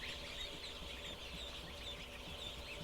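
Poultry cluck softly and steadily indoors, several birds murmuring at once beneath a constant background hiss. The sound is faint and continuous, with no voices.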